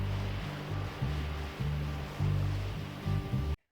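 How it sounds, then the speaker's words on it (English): Ocean waves surge and wash continuously over the opening of a song recording, the hiss of surf layered over a steady bass line from the song. "I don't remember the original song having ocean sounds."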